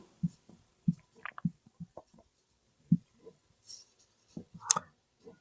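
Pen strokes write out a math solution for a geometry problem on arc length, with a series of short taps and scratches in a quiet room and no talking.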